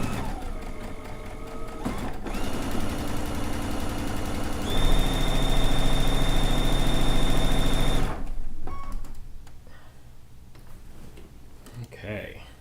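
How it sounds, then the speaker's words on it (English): A sewing machine stitches a seam, slowly passing over a pin, with a steady close mechanical whir for about eight seconds. It stops, leaving quiet handling and rustling sounds. "I'm just going to slowly go over it."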